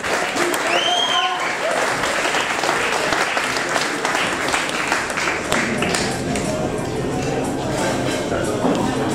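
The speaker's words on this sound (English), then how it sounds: "A round of applause for our 2 fighters." A crowd at a boxing undercard weigh-in applauds two fighters with sustained dense clapping and scattered cheers and whistles, while voices carry through the noise.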